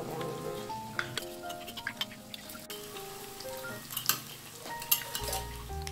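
Food fries in a pan until browned and crisp, giving a soft, steady crackle and sizzle with scattered pops over a continuous tonal background.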